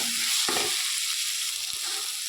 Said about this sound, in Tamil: இதுவும் நல்லா பச்சை வாசம் போகிற அளவுக்கு நல்லா தொக்கு கன்சிஸ்டன்ஸில் வர மாதிரி நல்லா வதக்கிக்கோங்க